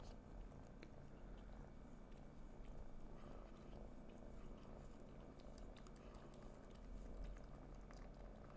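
Continuous low purring from a nearby cat, steady and rumbling throughout, with faint soft clicks and rustles mixed in.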